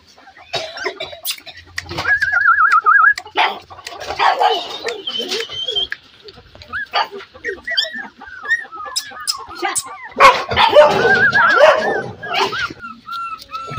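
Shih tzu, Beagle and Golden retriever puppies at play let out bursts of high yips, squeals and whiny barks, close by and irregular, with short quiet gaps between flurries.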